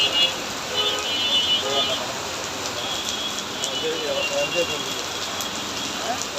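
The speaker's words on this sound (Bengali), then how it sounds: "পুরোই বৃষ্টি।" Heavy monsoon rain falling, a dense, steady hiss of downpour on surfaces filling the whole stretch with no pauses.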